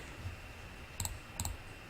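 Three sharp computer mouse clicks, spaced irregularly across two seconds, in a quiet room over a faint steady hum while setting up GNS3 network emulation software.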